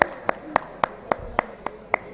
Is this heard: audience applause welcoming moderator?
yes